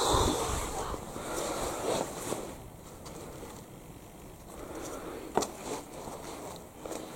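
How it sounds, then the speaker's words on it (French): Wind blows through the walls of an old hospital building as a broad, gusting rush that swells and fades, with a sharp knock or creak partway through and no clear speech. "Ce qu'on entend là, c'est le vent qui souffle à travers les murs."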